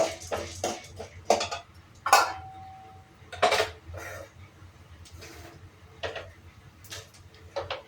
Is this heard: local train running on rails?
no